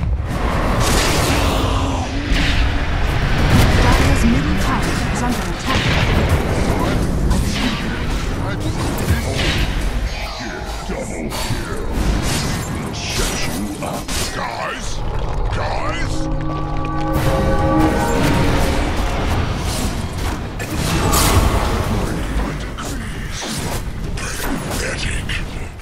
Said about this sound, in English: Radiant's top tower is under attack.